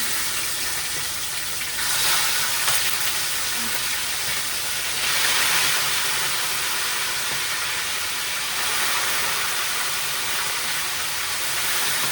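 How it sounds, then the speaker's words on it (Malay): Steady loud hissing sizzle of salted chicken frying in hot oil, with the crackle swelling in waves a few times over a continuous bed of noise. "Kita gorengkan ayam dulu."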